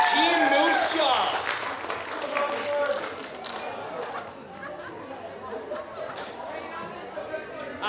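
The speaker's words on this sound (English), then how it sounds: "Round of applause, guys. Team Moose Jaw." A crowd at a peacock calling event claps and chatters, the applause loudest at first and then easing into scattered clapping under steady voices.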